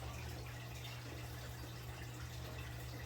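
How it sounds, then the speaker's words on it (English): Steady, faint rush of water pouring into an aquarium bucket, a continuous even splashing hiss with no talk over it. "Add a little bit of more water in here"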